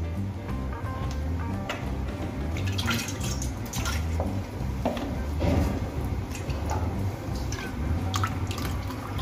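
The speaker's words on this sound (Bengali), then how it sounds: "এবার এর মধ্যে দিয়ে দেব সামান্য জল।" Water trickles and drips into fully boiled lentils for a tomato dal, a faint close pouring with small splashes and ticks spread through the whole stretch, no talking.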